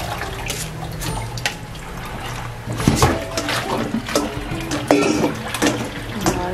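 Cold water runs from a kitchen tap over blanched glass noodles for vegan stir-fried noodles, a steady splashing rush with a few louder splatters as the noodles are rinsed.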